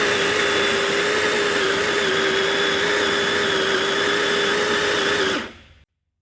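A coffee grinder works through 20 grams of beans on grind setting 9, giving a loud, steady, high-pitched whir with a constant motor tone that runs for about five seconds and then cuts off abruptly into silence.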